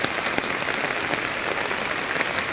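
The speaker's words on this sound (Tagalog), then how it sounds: "Ayan, dito maulan. Ayan. ayan yung kalsada" Heavy rain pours steadily onto a flooded street, a dense, even hiss of drops striking pavement and water with no voices, continuous and fairly close throughout.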